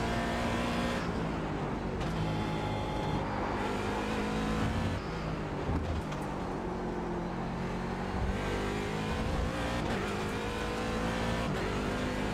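A race car being driven in the iRacing simulator, with a loud, continuous engine roar that rises and falls through repeated revving and shifting, sustained throughout.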